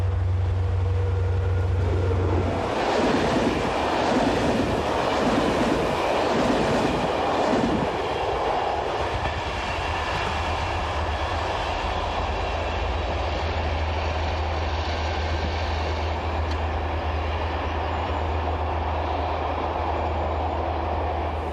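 A train rumbles past on the main line of a French railway, loud and close for the first several seconds, then fades to a steady distant rolling drone under a low hum, with no voices.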